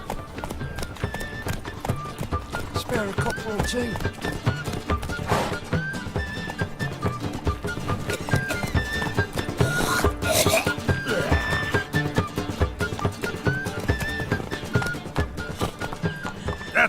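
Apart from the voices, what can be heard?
horse Roach trotting and neighing, from a video game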